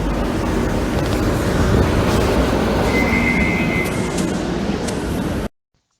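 Madrid metro train running, a steady loud rumble and rattle of the carriage with a brief high squeal of wheels or brakes, ending abruptly.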